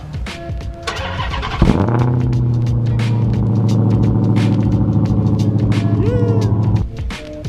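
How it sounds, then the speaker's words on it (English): A Dodge Challenger Hellcat cold starts with a sharp whine and bark, then settles into a loud, steady, rumbling idle for several seconds before cutting off. "let's do a cold start of the Hellcat"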